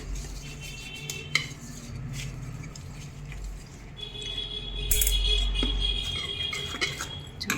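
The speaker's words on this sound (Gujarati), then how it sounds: "થાળીમાં આપણે થોડું 2 ચમચી જેટલું તેલ નાખી દઈએ અને એને ગ્રીસ કરી લઈએ" Quiet clinks and scrapes of a metal plate being greased with oil using a spoon close by, with a few sharper knocks and no talking.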